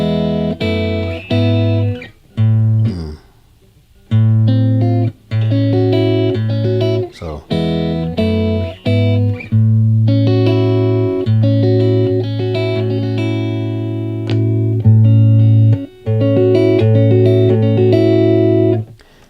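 A distorted electric guitar strums a series of chords with short pauses between changes, loud and upfront with no talking.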